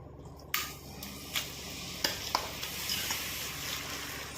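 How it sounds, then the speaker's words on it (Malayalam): Grated apple hitting hot ghee in a pan for apple payasam, a broad steady sizzle after the drop with a few sharp scrapes and clinks of a spoon stirring, fairly close and without talk. "നെയ്യ് നന്നായി ചൂടായിട്ടുണ്ട് ഇതിലേക്ക് നമുക്ക് ഗ്രേറ്റ് ചെയ്ത് വെച്ചിരിക്കുന്ന ആപ്പിൾ ഇട്ട് കൊടുക്കാം"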